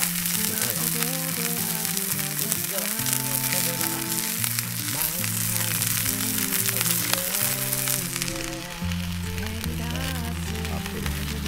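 A thick cut of meat sizzles loudly and steadily on a grill at a lakeside campsite park in Kusatsu, Shiga, a dense continuous crackle heard close up, with music playing underneath throughout.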